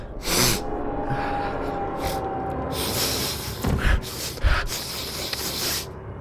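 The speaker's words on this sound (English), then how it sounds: "I got the sniffles." A few short, breathy sniffs through the nose, spaced irregularly over a soft hiss, with no talking.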